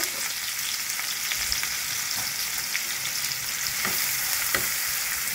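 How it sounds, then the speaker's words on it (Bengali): Two chopped onions fry in a pan for a mushroom paneer dopiaza, a dense continuous sizzle with occasional soft stirring ticks, close and steady, no voices. "পেঁয়াজটা ভাজতে থাকবে"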